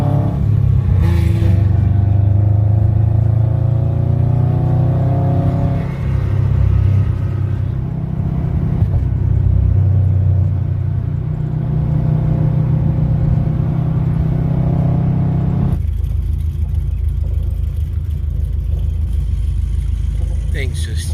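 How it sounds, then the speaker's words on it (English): Loud, close rumble of cammed LS V8 cars idling with a choppy, lopey beat at a TX2K23 car meet in Baytown, Texas, a deep throbbing drone that surges and shifts, with faint voices in the background. "I swear, all these cars are chopping."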